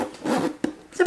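Zipper on the middle compartment of a bag with a suede interior being pulled open in short rasping strokes, close and loud, with a brief catch midway.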